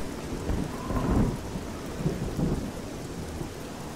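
Night thunderstorm in the video game Oblivion: steady rainfall with soft rolling thunder rumbles swelling twice, fairly quiet and with no speech.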